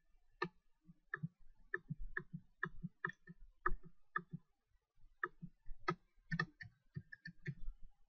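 Keys clatter on a computer keyboard in quick, uneven bursts of clicks with short pauses between them, close and fairly quiet, with no speech.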